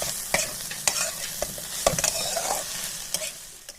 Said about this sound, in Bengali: আর হাফ চামচ সবজি মশলা দিয়ে দিচ্ছি নেড়ে চেড়ে নামিয়ে দেবো